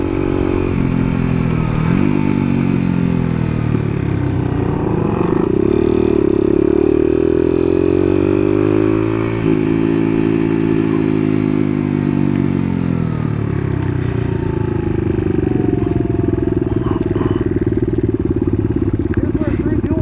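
A Suzuki DR-200 dual-sport motorcycle engine hums and rises through repeated revs and gear changes as it is ridden, the pitch sweeping up and settling several times, close and steady with faint voices in the background.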